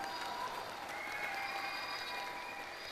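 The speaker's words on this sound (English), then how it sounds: "So let's give the Lord a mighty clap offering." Church congregation clapping during a worship service, a steady, even roar of many hands heard from a distance at moderate level, with a faint crowd murmur underneath.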